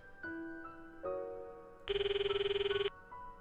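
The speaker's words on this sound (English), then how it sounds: "I tried to call Mayuri." A cellphone ringtone from the visual novel Steins;Gate 0 plays a short melodic pattern of bright electronic tones, ending in a burst of rapid pulsing trills, moderately loud with no voices.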